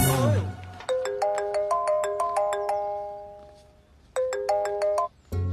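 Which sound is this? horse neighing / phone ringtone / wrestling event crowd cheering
phone ringtone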